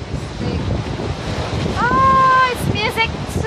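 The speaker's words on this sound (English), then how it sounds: "I love the sounds of the waves." Ocean waves washing onto a rocky beach on Tung Lung Chau island in Hong Kong, a loud, steady roar with heavy wind buffeting the microphone and a brief voice partway through.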